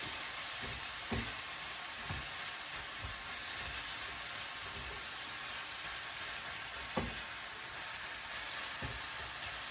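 A pasta and egg mixture sizzles steadily in a hot frying pan while being mushed and flipped, with a constant loud hiss broken by occasional soft scraping thumps from the utensil.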